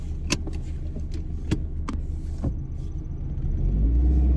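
A 1990 Toyota Celica 4WS GT-R with manual transmission rumbles steadily from inside the cabin, with a few sharp clicks early on and the low drone swelling louder near the end.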